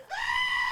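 A goat scream sound effect, a single strained, nasal bleat-like cry that rises sharply and holds steady, close and fairly quiet, with no talking.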